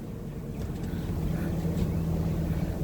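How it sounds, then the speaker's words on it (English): The engine of a 2002 Fleetwood Storm motorhome, restarted with starting fluid after eight years of sitting, idles at a fast idle of about 1,100 RPM with a steady, low, close droning hum and no pauses. "It started with starting fluid and it's staying on."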